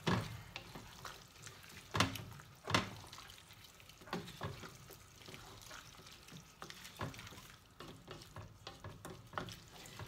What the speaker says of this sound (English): So now we're going to add all of our meat. All those juices off the drain there.